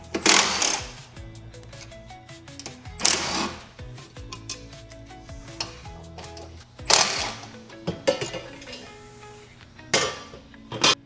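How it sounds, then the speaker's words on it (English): Metal tool clicks and clinks from a 9/16 socket ratchet being worked on bolts on a Toro Grandstand mower, with several sharp bursts of ratcheting spaced a few seconds apart, close by and moderately quiet. "you're gonna get your 9/16 socket, and you're gonna undo these bolts"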